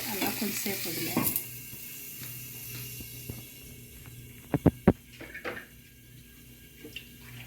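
Mutton keema simmering in water in a pan, with a soft steady bubbling and sizzle, a few stirring scrapes early on and a cluster of sharp utensil clinks against the pan near the end.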